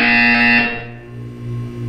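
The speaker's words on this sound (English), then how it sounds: "When you hear the buzzer, look down at the floor." A test chamber buzzer in the video game Portal 2 sounds a single loud, harsh electronic tone for about three-quarters of a second, then cuts off, leaving a lower steady hum behind.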